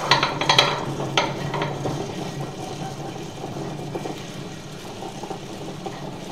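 Wet grinder working through soaked wheat with dried chillies, a steady mechanical whir and churning grind, close by, with a few clattering knocks at the start before it settles into an even hum.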